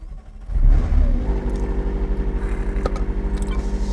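A McLaren 600LT sports car engine cranks and fires up with a loud burst, then settles into a steady, throbbing idle rumble close by.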